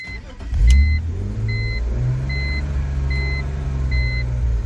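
A BMW E46 engine cranks and catches, then settles into a low steady idle while a warning chime beeps at regular intervals.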